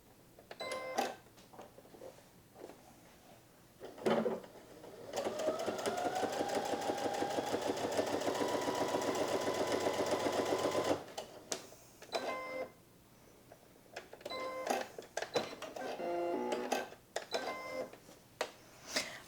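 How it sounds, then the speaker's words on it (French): A sewing machine runs a straight stitch in one steady, close whirring burst of about six seconds, with quieter clicks and handling noises before and after. "Et là, je vais pouvoir coudre, et ça va coudre vraiment très droit."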